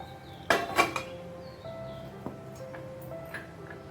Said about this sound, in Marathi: हांवें जो पणसाचो पल्प काडून दवरला तातूंत आमी हो मिक्स करया असो